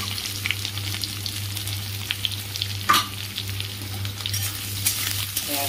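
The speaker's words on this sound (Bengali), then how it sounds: "পেঁয়াজটা দিয়ে নাড়াবো, একটু ভাজা ভাজা হবে।" Chopped onion sizzles in a pan of oil with bay leaf and whole cumin, a continuous close crackle with occasional stirring scrapes and a low steady hum underneath.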